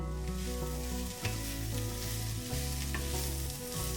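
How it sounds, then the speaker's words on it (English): Onions for a vegan onion soup fry in a pan under steady stirring, a continuous sizzle with a few scrapes, close up and with no voices. "Keep stirring the onions and soon you will start seeing this beautiful caramelization."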